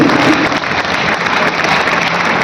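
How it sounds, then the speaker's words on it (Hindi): An audience at a Jain religious discourse claps in a dense, continuous patter, steady and fairly close throughout with no clear pauses. "ताली तो बजा रहे हो?"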